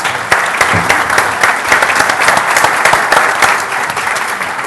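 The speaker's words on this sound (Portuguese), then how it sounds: "Peço um aplauso então para os nossos fantásticos oradores" An audience applauds its speakers at the close of a talk session, giving a loud, continuous burst of clapping that holds steady for nearly five seconds with little else beneath it.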